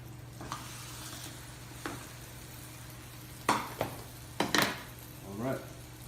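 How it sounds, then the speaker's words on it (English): A faint, steady sizzle of French toast frying in a pan, with a low hum underneath and a few sharp clinks of utensils partway through. "Hear the sizzle, you know it's ready."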